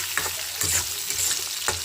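Chutney ingredients with tomato frying in a pan, a close, steady sizzle broken by several short scraping strokes of stirring, with no one talking.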